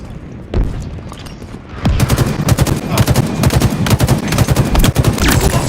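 Sustained rapid gunfire in Halo Infinite, a few isolated shots giving way to a dense continuous automatic stream, loud and close against busy game noise, with no talking.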